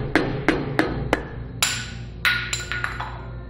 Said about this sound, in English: You can just use a screwdriver to get in behind the cap and pry it outward.